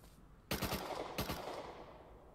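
Automatic gunfire in the survival game Rust sounds in two quick bursts of three or four sharp shots each, loud and close, with a faint ambient hiss between and after them.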